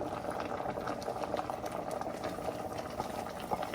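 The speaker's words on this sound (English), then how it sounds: "So I'm going to pour in the pepper that I fried earlier." Fried pepper cooked in red oil goes into a pot of boiling yam for an iftar meal. There is a quiet, continuous bubbling and simmering close by, with no distinct splash and no talking.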